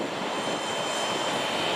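A Boeing 777X jet arriving at Boeing Field, its engines a steady, broad roar of loud wash that holds evenly throughout without any voices.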